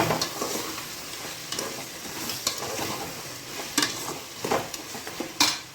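Mutton pieces sizzle and crackle in a hot pan for mutton biryani while a utensil stirs and scrapes, making repeated clinks against the metal over a steady frying hiss.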